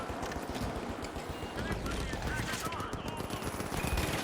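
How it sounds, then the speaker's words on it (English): Automated turret machine guns in The Finals video game fire continuous rapid bursts, loud and dense throughout, with a player talking over the shooting. "Our turrets are doing work right now."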